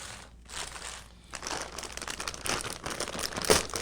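A plastic parts bag from a Redcat Wendigo RC kit crinkles and rustles as it is handled and pulled open, close and fairly quiet, in irregular bursts that grow busier toward the end.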